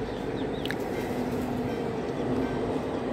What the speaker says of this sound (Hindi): वो देख सकते हो गाइस, ट्रेन आ रही है, लोकल ट्रेन है शायद